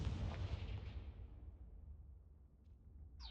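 A Confringo explosive spell bursts in a wizarding game, a muffled rumbling blast that fades out gradually over a few seconds, followed by a short faint sweep.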